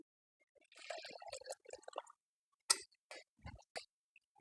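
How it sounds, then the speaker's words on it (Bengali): Chicken soup poured from a pot into a bowl after cooking on a gas stove, heard as a brief sequence of close splashing plops and drips with short pauses between them. "এবার ঢেলে নিচ্ছি।"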